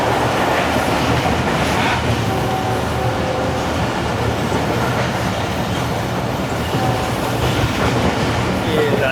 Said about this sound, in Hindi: ये लांडी जंक्शन को बहुत ही ज़बरदस्त स्पीड में पाक बिजनेस एक्सप्रेस स्किप कर रही है।